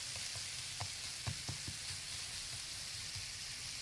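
Bacon frying in a pan gives a steady, hissing sizzle with a handful of small pops and crackles scattered through it, close and continuous with no voices.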